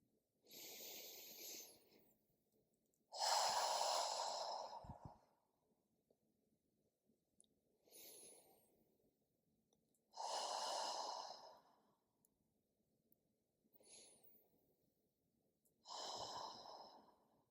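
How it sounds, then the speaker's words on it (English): Slow, deep breathing during a guided meditation: three unhurried cycles of long inhales and fuller exhales, each breath separated by quiet pauses, close to the microphone. "you want to fill your lungs, first that lower area of the lungs, then the upper, filling it fully, and then the release of the exhale"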